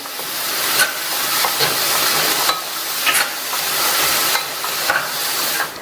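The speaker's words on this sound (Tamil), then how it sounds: "இப்ப நல்லா கலந்து விட்டுருங்க." Mango and pea sundal being stirred by hand in a pan off the heat with grated coconut, carrot and chopped coriander, giving a steady soft scraping rustle with brief sharper scrapes at irregular intervals.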